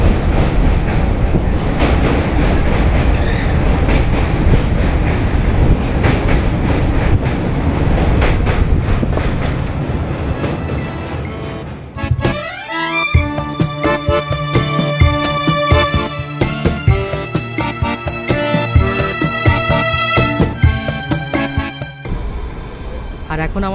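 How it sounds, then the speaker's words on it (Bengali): The 13175 Silchar Kanchanjungha Express runs out of Kolkata with a loud, continuous rumble, then shifts into a sharp, rhythmic clatter of wheels over track joints as it nears Dankuni marshalling yard. "আর এখন আমাদের ট্রেন ঢুকছে ডানকুনিতে।"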